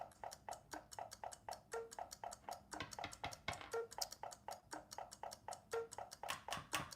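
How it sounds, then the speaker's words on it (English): Small plastic Kanoodle puzzle pieces tapping and clicking in a rapid, steady ticking rhythm, close and fairly soft, with a second overlapping layer of ticks and no talking. "You like how I've got two types of ticking going on?"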